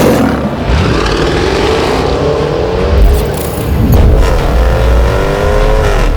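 A loud Jaguar F-Pace SVR engine revs hard and roars up and down in pitch, close by, with no talking.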